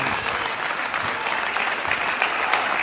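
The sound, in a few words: audience applause welcoming the MP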